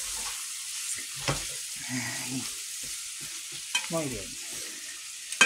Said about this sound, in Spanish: ¿Cómo va el sofrito? Ya lleva un ratito.